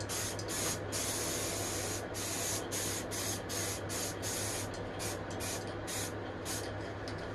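A spray coating is applied to the top of a mains conditioning hub case: a steady, loud hiss runs throughout, broken by many short pulses as the nozzle is pressed and released.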